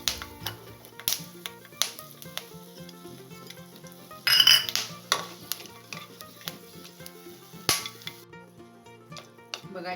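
Whole spices, including lightly crushed cardamom, sizzle softly in hot ghee while a spoon scrapes and stirs the pan, with irregular clinks against the metal and one brief louder scrape midway.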